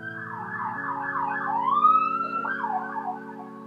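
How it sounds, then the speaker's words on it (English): Emergency vehicle siren wailing at a moderate distance, its tone sweeping up and down in long continuous glides, heard alone against a low steady hum. "another siren."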